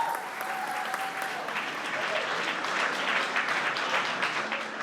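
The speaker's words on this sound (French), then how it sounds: "Veuillez applaudir la catégorie bikini numéro 1." An audience at a women's bodybuilding show applauds the bikini category contestants with steady, moderately loud clapping throughout, slightly fuller toward the end.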